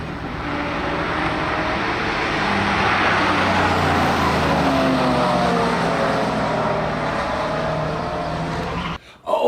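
A 2016 Chevy Camaro drives past with a broad, steady engine and road roar that swells and holds for several seconds, then cuts off abruptly near the end.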